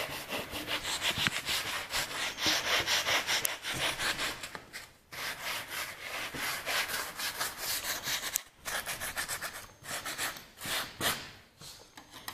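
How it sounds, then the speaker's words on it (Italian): Wood being sanded by hand to remove splinters, a close, loud rhythmic rasping of repeated back-and-forth strokes with brief pauses between passes. "Quindi scarteggiamo."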